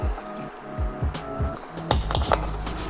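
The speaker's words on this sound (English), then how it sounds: "I'm going to change the consistency with adding some milk again." Milk is added to a stringy cheese sauce for lasagne, giving wet squelching, dripping and liquid splashes with sharp, irregular clinks and taps from a whisk against the pan.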